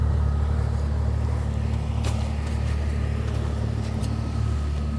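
A Jeep grinds over an obstacle on a snowy road during a May snowstorm near Bowman Lake, its engine droning low and steady and close by, with a few brief knocks and scrapes partway through.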